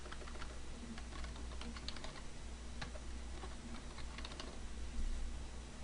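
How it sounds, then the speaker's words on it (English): A password being typed on a computer keyboard, a run of quick, light key clicks in an irregular rhythm, close and fairly quiet over faint background hiss. "you have to type in your password"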